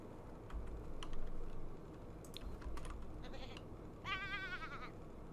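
Goat in the farming game Georgia's Ranch 2 giving a short, wavering bleat near the end, after a stretch of soft clicking like keyboard typing and quiet background sound.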